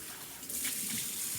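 Tap water running into a sink while a pot is washed, a steady close splashing rush that swells slightly partway through, with no voices.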